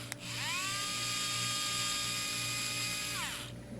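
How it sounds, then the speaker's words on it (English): An AM Arrowmax SES Ultra precision electric screwdriver spins up and runs steadily for about three seconds, a close high-pitched motor whine that rises at the start and winds down at the end, with no voices. "let's go ahead and test it out. So here's the screwdriver."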